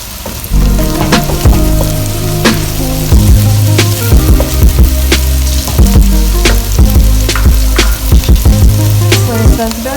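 Loud, steady sizzling of cabbage, carrots, peas and capsicum stir-frying in a pan for vegetable chicken fried rice, with frequent sharp clacks of a spatula tossing the vegetables.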